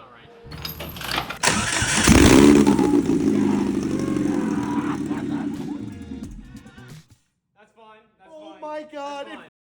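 A DF Goblin kit car engine with a 488 engine cranks and catches on its first start, roaring loud and close as it revs and holds, then dies away, followed by excited voices talking.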